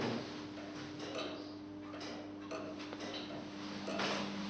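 A Bodet BR tower clock movement ticks steadily with light metallic clicks from its geared mechanism, heard close in a quiet room over a low steady hum.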